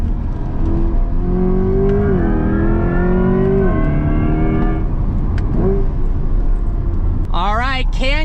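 A 2024 Corvette E-Ray with all-wheel drive launches hard, its engine note rising through several gears in loud, climbing sweeps under a heavy interior rumble, and a voice exclaims near the end.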